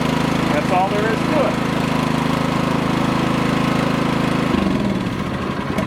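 NiftyLift boom lift engine idling just after starting with the choke on, a loud, close, chugging rumble that shifts and settles in pitch near the end. No one talks over it.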